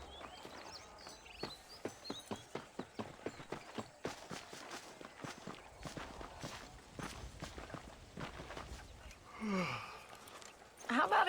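Horse hooves clip-clop at a steady trot in Red Dead Redemption, fairly close and soft, a rhythmic series of hoofbeats that loosens midway, with a brief voice near the end.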